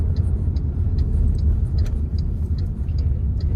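MG HS i-smart SUV engine pulling hard in sport mode, a deep steady rumble heard from inside the cabin, with faint ticking above it.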